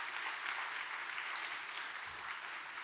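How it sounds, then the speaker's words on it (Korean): Church youth group congregation applauding in a steady, even patter of many hands, sustained at moderate distance for the whole stretch. "우리 팀장님들과 다른 분들에게 박수 한번 드리면 좋을 것 같습니다"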